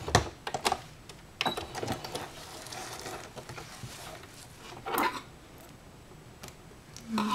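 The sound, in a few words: sewing machine back stitching a tab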